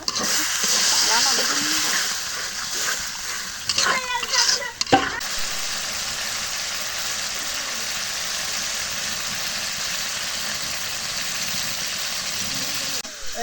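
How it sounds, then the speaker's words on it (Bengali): Spice masala sizzles and fries steadily in a pan, a loud continuous hiss with a few stirring scrapes near the start, unbroken for the whole stretch. "মশলাটা এখন কষানো হয়েছে"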